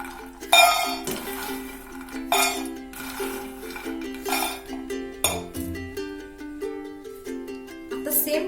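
Roasted fox nuts (makhana) are scooped from a pan into a bowl, making irregular metallic clinks and light rattling scrapes over a soft, steady tonal background.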